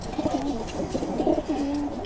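A pigeon cooing close by, several soft, throaty, rolling coos in a loose rhythm over light background noise, with no speech.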